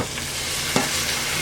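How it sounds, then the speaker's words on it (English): Beer poured into a hot pan of liver and onions sets off a loud, steady sizzle, with a brief sharp burst as the liquid hits, and no talking. "Here it sizzle."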